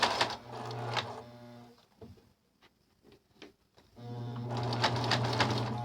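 A sewing machine stitches a shirt underarm seam in two loud, steady whirring runs, with a quieter pause of small clicks and handling noises between them.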